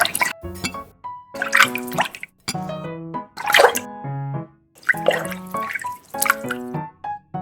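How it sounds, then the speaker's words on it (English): Water is poured onto butterfly pea flowers in a miniature cake-decorating setup, giving a series of bright dripping plops and gurgling pitched splashes in irregular bursts, close and clear, with no voices. "Pour water to have blue color."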